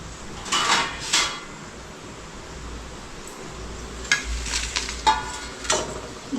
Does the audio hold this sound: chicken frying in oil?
yes